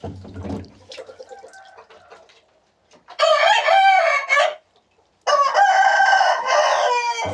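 Two loud Indian game rooster crows ring out close by, each long and strained, with softer clucking and rustling before them.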